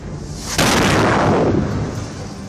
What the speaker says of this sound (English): A small missile shell is launched on the target, supposedly to give people a chance to evacuate.